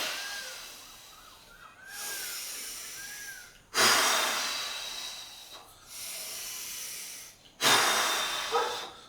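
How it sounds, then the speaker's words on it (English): Three forceful, breathy exhalations, like blowing out a candle, each a loud burst of rushing air about two seconds apart, done as a breathing warm-up, with quieter breaths between them. "as though you feel that there's a candle, 4 feet away from you, and you are blowing it"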